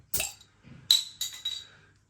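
A bottle of Schlenkerla smoked Rauchbier is opened and handled over a glass, giving a few sharp glassy clinks and clicks up close in an otherwise quiet room.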